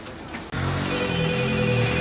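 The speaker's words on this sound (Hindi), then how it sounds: "किसी का फोन आ रहा है" A telephone starts ringing abruptly after a brief moment of quiet, a continuous electronic ring that carries on loudly and close by.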